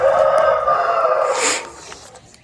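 A Korean-breed rooster crows nearby, one long sustained call that rises and then trails off, with a brief sharper accent near the end and no talk.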